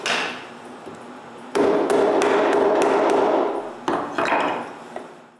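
Hand tools knock waste wood out of hand-cut dovetail joints in a woodshop, giving a run of sharp, close taps and chops, some in quick succession, with brief pauses between bursts.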